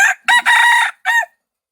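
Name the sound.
rooster crowing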